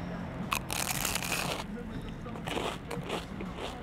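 Bites into a small, crunchy Italian sfogliatella pastry, giving close, crisp crackling bursts in short clusters with brief pauses between them, likely with a cappuccino nearby.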